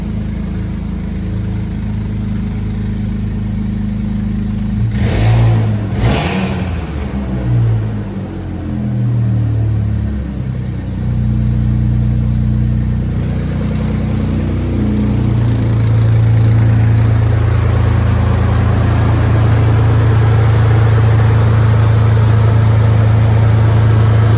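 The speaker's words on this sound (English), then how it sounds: "So here we started up with the rebuilt engine, with the goop on, everything." A rebuilt Isuzu Rodeo engine idles with a steady low rumble, broken by a couple of sharp bursts of revving early on, then settles back to a loud, even idle.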